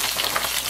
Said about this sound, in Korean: 여기다가 이제 우엉을 넣어주면 돼요.